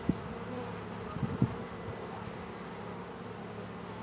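Honey bees buzzing softly and steadily at an open hive during an inspection, a low continuous hum with a few brief louder knocks and bumps early on.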